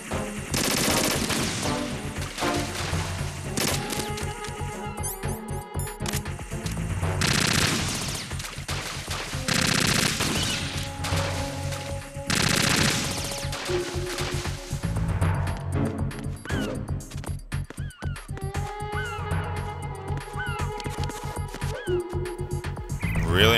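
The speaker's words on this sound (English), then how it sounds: "we're gonna have to go and shoot down these ciphers and get by them" Gunfire in Metal Gear Solid 2 as ciphers are shot down: rapid bursts of game weapon fire crackle in repeated clusters alongside electronic effects and music, fairly loud and dense throughout with no one talking.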